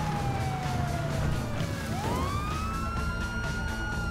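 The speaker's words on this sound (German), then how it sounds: "Wie macht man die Sirene aus?" A wailing police car siren in GTA V sweeps down and then back up over a steady wash of engine and road noise, loud and continuous.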